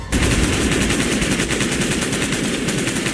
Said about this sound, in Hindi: पुलिस ने फायरिंग स्टार्ट कर दी।